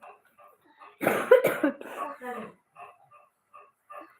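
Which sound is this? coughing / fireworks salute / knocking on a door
coughing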